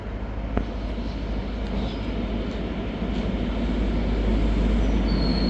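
A ScotRail service from Glasgow Queen Street to Aberdeen pulls into Dundee station with a loud, steady rumble and low engine drone that builds slightly toward the end. A faint squeal of wheels or brakes rises near the close, and no one speaks.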